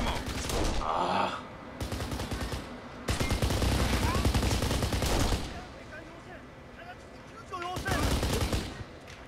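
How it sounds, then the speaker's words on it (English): Bursts of machine gun fire from the video game Kane and Lynch rattle loudly in several long stretches, with gasps and speech in between. "Machine gun bullets right there."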